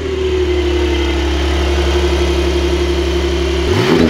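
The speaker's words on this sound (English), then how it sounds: "can we hear some revs?" A sports car engine revs loudly with a deep, steady roar that holds high before dropping off near the end, with no talking.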